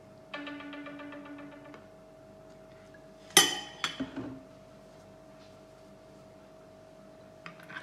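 A green bean salad dressed with apple vinegar and sunflower oil is tossed in a bowl, giving a brief cluster of clinks and scrapes from utensils against the dish midway through, with a quiet tonal hum earlier and near silence after.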